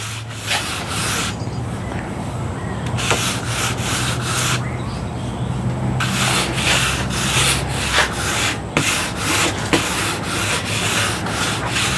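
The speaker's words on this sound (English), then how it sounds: "I'm just sliding the sandpaper across the top" Sandpaper sliding lightly over a wooden top while prepping for polyurethane, a loud, close, steady rasping rub in repeated back-and-forth strokes with brief pauses, no talk.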